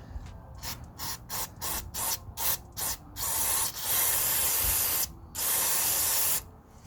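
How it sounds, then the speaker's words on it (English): Short bursts of CRC mass airflow sensor cleaner hiss in quick succession onto a 2006-2010 Honda Civic's sensor, then a longer continuous spray, a brief pause, and another long hiss, close by. "you can spray directly on it"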